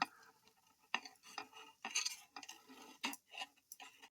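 A knife scrapes and taps against a pan while flipping frying puffed-rice snack patties, a string of quiet, uneven metallic clinks and scrapes, close and soft, with no voices.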